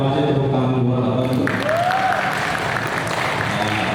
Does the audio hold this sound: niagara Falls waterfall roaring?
no